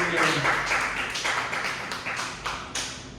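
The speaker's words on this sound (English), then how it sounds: "Give yourselves a round of applause for being here" Applause from a comedy club audience, a steady patter of many hands with a few louder individual claps standing out, tapering slightly toward the end.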